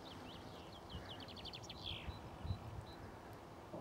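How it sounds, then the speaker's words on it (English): Chaffinch song on a quiet countryside walk between Great Chesterford and Newport, with repeated bright descending trills and scattered chirps from other small birds, moderately distant over a soft outdoor background hush. "Plenty of chaffinch song there around."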